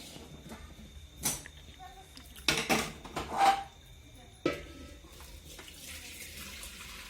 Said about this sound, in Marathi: आता पाणी काढून घेणार एका पातेल्यामध्ये